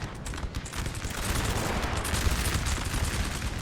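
Dense musket volleys in a Napoleon Total War multiplayer battle, a continuous crackling fusillade of many overlapping shots at steady loudness, with no talk.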